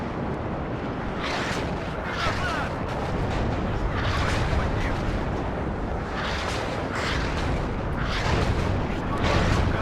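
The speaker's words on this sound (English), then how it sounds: "we actually have some enemy rocket artillery coming in" Enemy rocket artillery strikes land in the WARNO military strategy game, a dense continuous rumble of repeated blasts and crackling impacts with periodic louder bursts throughout.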